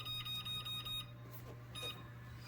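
A kitchen timer beeping while cookie crumbs bake for a pecan cheesecake, a quick series of short, evenly spaced electronic beeps over a steady low hum, with a few softer beeps following.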